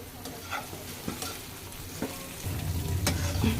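Onions fry in a pan with a close, crackling sizzle, punctuated by a few sharp utensil taps and scrapes, the hiss growing louder toward the end.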